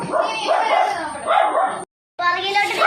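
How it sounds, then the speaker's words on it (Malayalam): A dog barks and yips repeatedly at close range, loud and excited, with a brief silent gap before the barking resumes. "ഇവരെ കണ്ടേനെ അല്ല കുരയ്ക്കുന്ന പിങ്കു"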